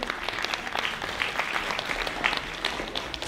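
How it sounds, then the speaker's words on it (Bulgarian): Audience applause at a gala concert of children's art-studio performers, a steady, full patter of many hands clapping in a hall that carries evenly through the whole stretch with no speech. "Вашите аплодисменти!"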